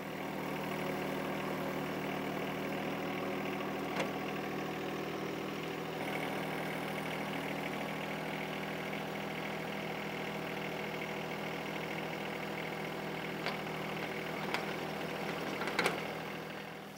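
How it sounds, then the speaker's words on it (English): A small tractor fitted with a bucket idles steadily in a farm setting near compost, a constant low mechanical hum with a few brief clanks and ticks, quiet and distant, with no voices. "especially if you've got a small tractor with a bucket that you can use to pick it up."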